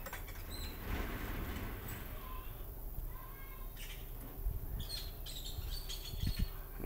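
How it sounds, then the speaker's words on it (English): Agitated wild birds call from a distance. Faint scattered chirps and short calls sit over a broad outdoor noise bed. "And those birds are angry."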